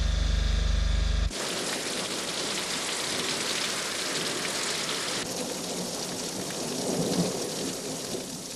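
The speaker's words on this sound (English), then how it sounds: "rain had quietly begun to fall" Steady rain falls over Norwegian hills ahead of a storm front, a dense broadband patter that continues evenly for several seconds after a brief louder burst at the start, with no voices.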